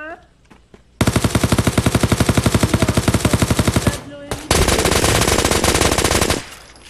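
Rapid automatic gunfire in the battle royale video game PUBG, loud sustained bursts of fast evenly spaced shots, a brief pause, then another dense burst, with a voice briefly present.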